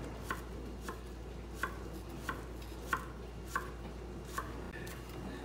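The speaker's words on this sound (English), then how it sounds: "We're almost finished cutting up the scallions." A knife chops scallions on a cutting board in steady, evenly spaced strokes, about eight crisp taps over a low background hum.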